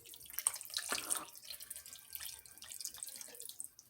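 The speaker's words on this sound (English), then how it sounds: "Now I'm going to add just a little water," Tap water runs into a crockpot of homemade beef chili, a short, soft splashing pour heard close and alone.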